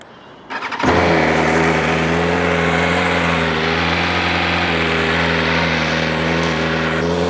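A 2025 BMW M1000RR superbike with an aftermarket Bikebiz exhaust and factory catalytic converter fires up from cold after a brief starter whir, then settles into a loud, steady, close-up idle.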